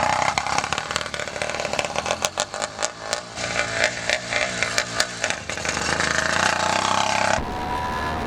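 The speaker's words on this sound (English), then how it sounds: "It's the stock engine, so has not been messed with, and therefore it doesn't have high RPMs." A stock, unmodified 80cc two-stroke engine on a motorized bicycle runs with a buzzy, rattling drone that rises and falls, rapid firing pulses showing mid-clip before the engine steadies and drops off near the end.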